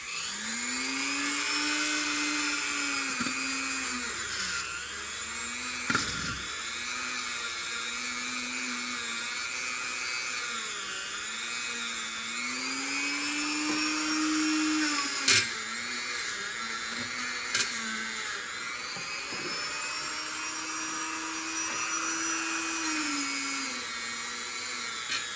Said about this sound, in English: Lost a couple wires off my wire wheel there